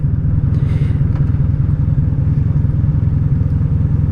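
A Honda V65 Sabre motorcycle engine runs steadily up close, a loud, even throb with a fast, regular pulse and no change in pace.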